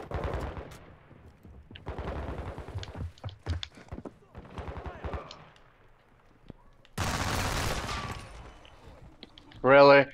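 Call of Duty Modern Warfare 2 gunfire rattles in rapid automatic bursts and single sharp shots, spaced across several seconds, ending with a louder sustained blast, while a voice speaks briefly.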